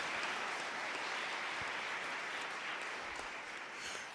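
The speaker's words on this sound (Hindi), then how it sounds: "तालियां बजाएं और उसको धन्यवाद दें।" A church congregation claps together during a Hindi worship sermon, a steady wash of many hands filling the room for several seconds without a break, moderately loud and heard without talk.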